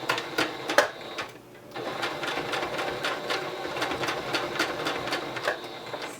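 A sewing machine stitches a seam along mask fabric, its needle running in a steady rapid chatter with a brief pause near the start before picking up again, close and fairly loud.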